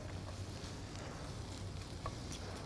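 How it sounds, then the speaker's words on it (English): Garlic toasting in a hot sauté pan gives a soft, steady sizzle and faint crackle that runs evenly throughout with no voices, low and fairly quiet. "Nice saute. You can hear that sizzle."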